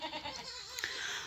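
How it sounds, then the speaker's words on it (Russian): Young suckling goat kids bleating softly, a few faint cries close by in a quiet farm pen. "Вот эти козочки на подсосе."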